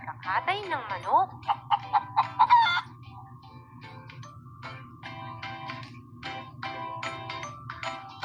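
Chicken clucks and crowing calls, loud at first then softer, over a steady low background hum.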